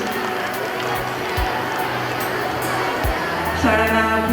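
Audience clapping and crowd noise at a primary school annual function, a steady, moderately loud patter with voices and some speech mixed in.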